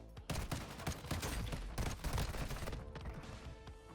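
Dense bursts of rapid video-game gunfire crackle continuously and fairly loud, easing slightly toward the end, with no clear talk over the shots.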